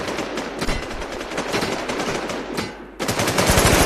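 Rapid automatic gunfire in the online shooter Warz, dense continuous bursts loud and close, briefly dropping off before a fresh, heavier volley resumes.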